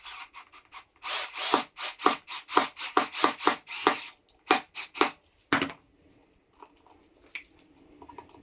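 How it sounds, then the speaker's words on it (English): Electric drill driving screws while a wooden sand and water table is assembled, a fast run of short whirring bursts and clicks up close, then a few sparse knocks and quiet handling sounds. "There's something about this sort of work and the sound of a drill"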